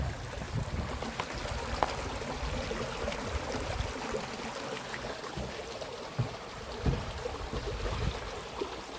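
Water of the River Medlock rushes over rocks in a strong current, a steady, fairly loud churning wash with scattered splashes and no voices.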